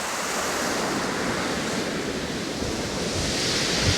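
Surf washes steadily against the steep shingle bank at Chesil Beach, Dorset, on a calm, flat day. It is a continuous, even hiss of broken water close by, with a soft breathy rush that never lets up.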